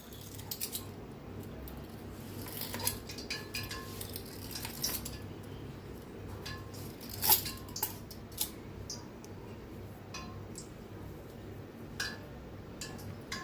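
A cutter scores through rolled shankarpali dough, giving scattered light scraping clicks and taps against a board at an uneven rhythm, close and fairly quiet, with no talking.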